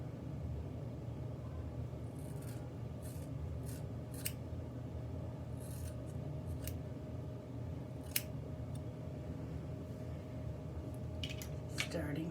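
Scissors snip through curly hair in a DIY haircut, with faint, sparse, crisp clicks at irregular intervals over a low steady room hum.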